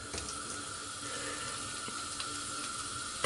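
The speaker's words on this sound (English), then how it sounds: "Now let me add some more water." Tap water runs steadily into Chanel N°5 bath gel as it is worked into a lather, a continuous close splashing stream with no voices.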